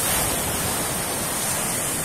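Strong sea waves rush in a continuous broadband roar, loud and unbroken across the short stretch, with no voices.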